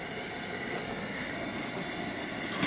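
A Coleman white gas camp stove roars steadily with one burner at full blast and the other simmering, a loud, even hiss of pressurized flame that continues without a break.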